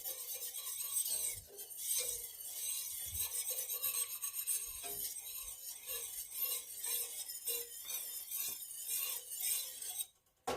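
Homemade gravy being stirred in a pan, a steady scraping and rasping of a utensil against the pan bottom that continues almost without pause and stops abruptly near the end.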